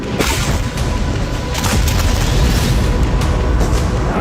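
Heavy bombardment in Gaza produces a dense, loud roar of booms and crashing impacts, with several sharp blasts standing out above a constant rumbling wash.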